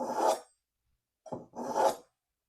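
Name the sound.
knife being sharpened on blade sharpener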